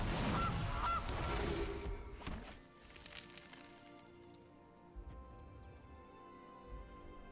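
A cartoonish goose honk sounds from the Gilded Goose card in MTG Arena, loud at first and then fading into soft digital game chimes and a quiet tail.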